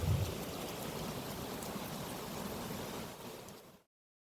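Steady rain falls on a terrace as a constant close hiss of drops that holds evenly, then cuts off abruptly near the end, with no talk.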